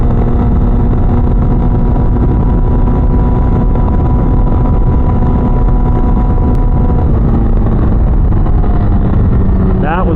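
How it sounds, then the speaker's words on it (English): Tuned car engine on a dyno run holding a steady, loud drone as it climbs toward its roughly 8,500 rpm rev limiter, with a strong continuous hum and a brief rising sweep near the end. "Hit the rev limiter"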